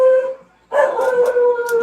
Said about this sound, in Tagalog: Iyan ang aso.